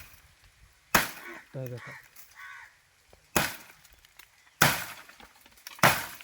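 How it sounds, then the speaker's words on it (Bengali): A heavy axe chops through bamboo at its base in a village, giving four sharp, loud, splintering strikes spaced irregularly. Brief speech is heard between the blows. "কয়েকটা চুট মারলে আমাদের বাঁশটা কেটে গেল"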